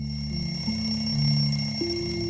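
An alarm clock rings with a steady electronic tone that shifts pitch a couple of times, close and constant throughout.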